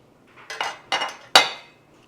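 Cold raw chicken skin pressed and flattened into a pan, giving three short clattering contacts of skin and metal, each sharp at the start and fading, close and fairly loud with no talk.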